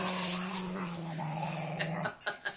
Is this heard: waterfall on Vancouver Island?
no